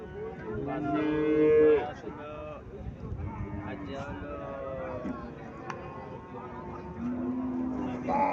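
A dairy cow at a cattle sale in Cumilla, Bangladesh, moos loudly and nearby near the start and again near the end. People talk throughout over low farmyard background noise.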